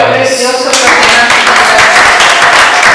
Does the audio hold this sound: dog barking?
no